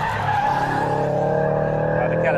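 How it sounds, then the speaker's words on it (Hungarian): Front right tyre of a Mini Cooper S cabrio squealing under hard cornering on a timed lap, a steady strained screech over loud, continuous engine noise throughout, with faint voices in the background. "Hát kellemesebb cicergést hallottam a jobb elejéből."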